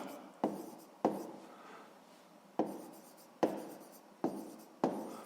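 A pen scratches out a scale in a maths exercise book, moving in short strokes that each start with a sharp tap and then fade. The writing is close and quiet, with no talking.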